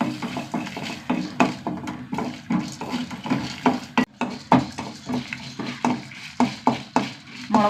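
Dried red chillies and urad dal roasting in a pan, stirred with a metal spoon that gives repeated sharp scraping clinks and taps in an irregular rhythm over a faint dry sizzle, close and fairly loud.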